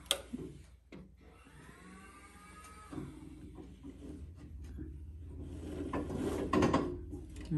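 An Elgin treadle sewing machine winds a bobbin: mechanical whirring and clicking gears and pulleys build up and speed from a few scattered knocks into a steadier, louder spin close by, with no voices.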